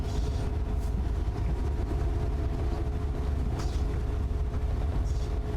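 Amtrak California MP36 diesel locomotive rolling past in Train Sim World 5, a steady low rumble of engine and wheels on rail, close and continuous, with brief higher hissing bursts over the drone.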